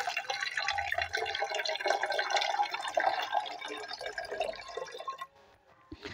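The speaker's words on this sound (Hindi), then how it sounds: "इसमें हम पानी डालते हैं इस लोटे से" Water poured from a lota into an empty bottle, a steady close splashing and trickling stream that runs for about five seconds and then stops abruptly.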